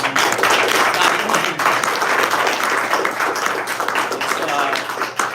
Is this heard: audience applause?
yes